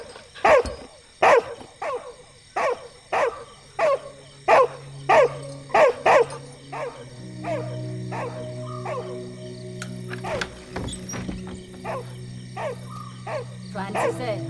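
A dog barks in a loud, regular series of about a dozen sharp barks close by, then the barking fades into a steady hum and scattered noises with a few faint yips near the end.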